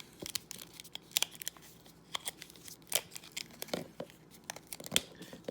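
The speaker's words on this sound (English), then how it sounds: "So I just twist and twist and twist like a figure eight, and I got them apart." Volvo rental car keys are twisted apart on a metal key ring, close up, in irregular bursts of metallic clicks, scrapes and jingling with no voices.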